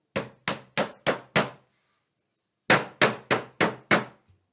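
A hollow, resonant milk bottle struck five times in an even rhythm, a short pause, then five more strikes and a faint final tap.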